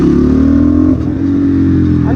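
Asian Beast 250cc dirt bike engine revving loudly close by, a sustained high rev that drops briefly near the middle before climbing again, with a rough mechanical drone throughout.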